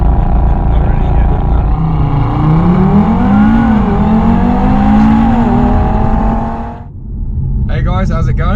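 A 2018 Audi TT RS in Australia pulls away from a standstill, its engine note rising and falling through gear changes, loud and close from inside the cabin, before easing off.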